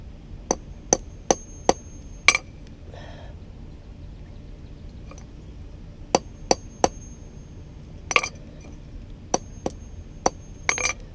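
Sharp metallic hammer blows on a ground rod ring out in small bursts of three or four quick strikes, separated by pauses, close and clear against a faint background hum.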